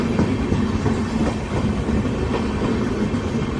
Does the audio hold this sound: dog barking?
no